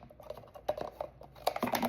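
A pair of scissors cutting all the way around something, heard close up as a quick, irregular run of crisp snipping clicks with short pauses between them.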